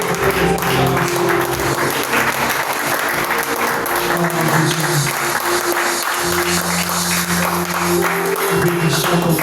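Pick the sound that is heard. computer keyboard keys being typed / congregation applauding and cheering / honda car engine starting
congregation applauding and cheering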